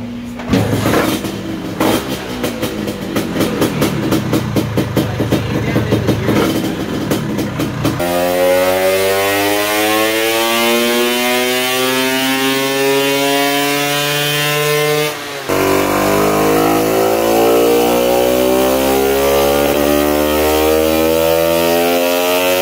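A 1966 Sears Blue Badge Vespa Sprint 150 scooter, restomodded to 193cc and running race gas, revs on a dyno in loud sweeping pulls. Pitch climbs steadily after rough, choppy blipping, then drops briefly and climbs again.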